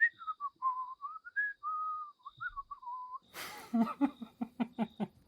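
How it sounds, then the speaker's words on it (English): A melodic whistled tune with gliding, wavering notes, followed by a burst of rhythmic rustling or thumping sounds. "goes about sort of whistling down the road"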